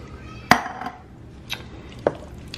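Canned Rotel tomatoes added to a dip and stirred, a few sharp metallic clinks of a spoon against a pot or can, spaced irregularly with quiet scraping between, close by and with no talk.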